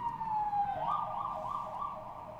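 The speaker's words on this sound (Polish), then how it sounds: "Jakieś karetka jedzie?" Ambulance siren passing outside, a steady wail sliding into a warbling up-and-down tone, moderately loud and continuous over low background rumble.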